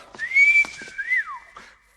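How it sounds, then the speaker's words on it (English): A lone person whistles a short, wavering tune, sliding up and down with breathy, slightly unsteady notes before trailing off into quiet. "It does remind me that I'm not capable of whistling very well"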